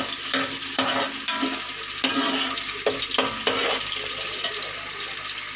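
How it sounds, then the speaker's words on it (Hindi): Onions browning in a frying pan for beef keema yakhni pulao, a steady loud sizzle with bursts of stirring and scraping throughout, no talk. "ये देखें व्यूअर्स, हमारा प्याज ब्राउन हो रहा है।"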